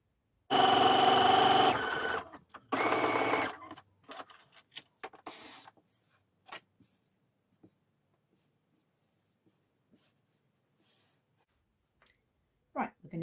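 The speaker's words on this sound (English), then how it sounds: "I'm going to sew these" A sewing machine stitching patchwork squares for a cushion runs in two short loud bursts near the start, followed by scattered faint clicks and handling noises, with no talk.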